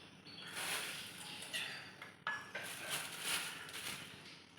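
A bowl is picked up and handled in a home kitchen during snack preparation, giving close ceramic and metal clinks and scrapes with one sharper knock midway, with no voices.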